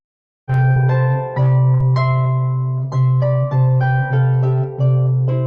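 Plucked harp notes sounding in pairs a sixth apart over a sustained low bass, several chords struck one after another at a moderate pace, clear and close.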